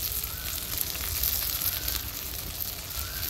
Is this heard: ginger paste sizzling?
yes